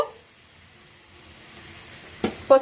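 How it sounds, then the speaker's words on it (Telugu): Finely chopped onions fry with turmeric in a pan, a soft, even sizzle close by, followed by two brief clicks of a utensil at the end. "కొద్దిగా అలా ఫ్రై చేయాలండి"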